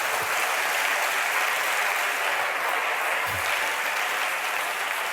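A church congregation applauds steadily and loudly in acclaim of the Lord, a dense, sustained wash of clapping from many hands with no pause.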